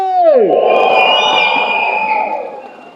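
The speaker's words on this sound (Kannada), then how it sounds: "ಸೊ ಜೋರಾಗಿ ಚಪ್ಪಾಳೆ" A crowd at a Kaalapathar film event roars with cheering and whoops after a loud voice's drawn-out shout, a dense, sustained din that fades slightly toward the end.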